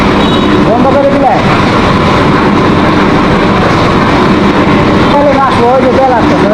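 A mustard oil press machine runs with a loud, continuous mechanical drone and grinding rumble, while voices talk over it throughout.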